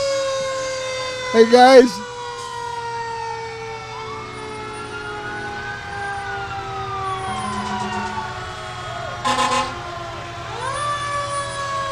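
A fire engine siren wails and rises and falls at a July 4th parade in Austintown Township, with sharp horn-like blasts at loud moments over a steady engine drone. A voice briefly speaks under the siren.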